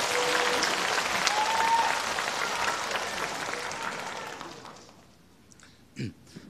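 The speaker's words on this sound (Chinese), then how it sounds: "感谢大伙的掌声鼓励啊！" A live audience at a Deyun crosstalk comedy competition applauds performers Zhang Helun and Shaobing taking the stage. The dense clapping holds, then fades away, and a brief voice follows in the quiet.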